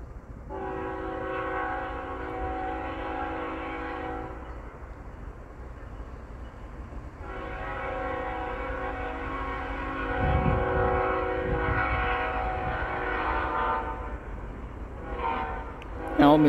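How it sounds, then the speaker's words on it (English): A train approaches with two long, loud horn blasts separated by a gap, a heavy rumble of rail cars building underneath and a brief closer rumble partway through. "Got a train coming."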